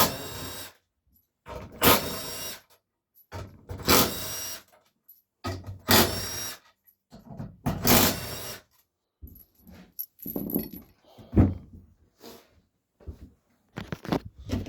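A power tool fitted with a 1/2 inch drive whirs in repeated short bursts, separated by pauses, clanks and handling noise, while removing bolts from a Dodge Cummins 47RE transmission during teardown, close and fairly loud.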